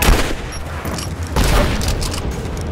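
Gunfire rattles in Rise of the Tomb Raider, loud dense bursts of shots and booms rolling through a combat scene, with a heavier volley surging midway and no clear speech.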